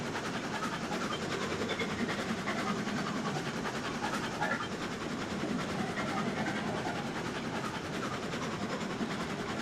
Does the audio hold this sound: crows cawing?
no